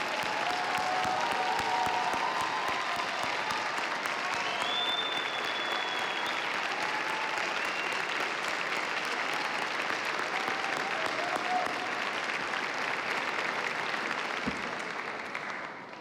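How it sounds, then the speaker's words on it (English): Sustained applause from a large audience at a spring doctoral graduation ceremony, a dense, steady wash of many hands clapping for the full length before tapering slightly at the end. "One more round of applause."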